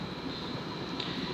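A Greater Anglia train at Stowmarket station makes a continuous, fairly loud rumble with a steady high whine, heard without any voices.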